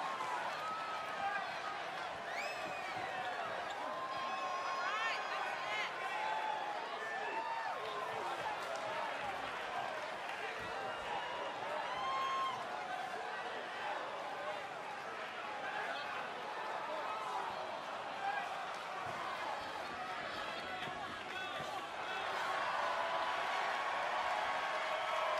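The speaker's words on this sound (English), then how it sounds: "it sounds to me like this crowd already picked the one who they want to win this match" A video game wrestling arena crowd from a WWE 2K20 NXT women's match, a steady dense roar of cheering and chatter under continuous commentary voices, with some sharper whoops scattered through.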